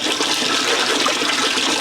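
Fish being washed with water and a splash of vinegar, heard as a close, steady rush of running, splashing water that holds constant throughout, with no voices.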